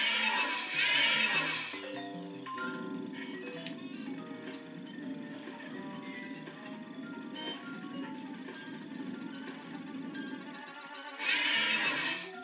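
In the Luigi's Mansion GameCube game, a rocking horse boss neighs in shrill whinnies at the start and again at the end, with a tinkling music-box melody playing between them.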